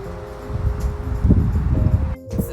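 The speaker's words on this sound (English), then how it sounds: "It's very windy today" Wind buffets the microphone in a low, steady rumble with rustling gusts, loud and continuous, briefly dropping near the end.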